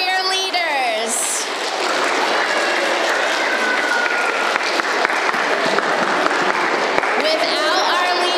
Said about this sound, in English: Everybody give a big round of applause for your leaders.